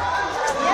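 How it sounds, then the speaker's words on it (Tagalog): A large crowd at a rally shouts together, a loud, continuous wall of raised voices and cheering that fills the whole brief moment. "Sigawan ang mga tao."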